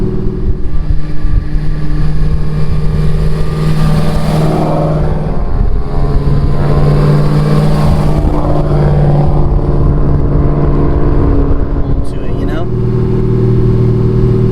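A 940-horsepower modified Chevrolet Camaro ZL1 engine drones steadily from inside the cabin with the exhaust closed while cruising, a low muted rumble that rises and falls, while people talk over it.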